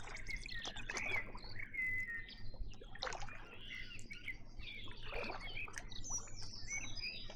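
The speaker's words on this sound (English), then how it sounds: "look at that bird song" Songbirds chirp and trill near a river in Canterbury, heard from a kayak on the water, with overlapping bright calls above a low steady rumble and trickling water, no talk.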